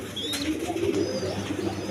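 Pigeons of mixed breeds kept for sale, cooing softly in a low murmur over steady background noise, a few birds close together with no clear talk.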